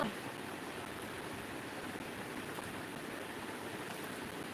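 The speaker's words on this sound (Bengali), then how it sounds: "আজকে বৃষ্টি হচ্ছে গো খুব" Heavy rain pours down steadily as a dense, continuous broadband hiss with no voices, holding constant loudness throughout.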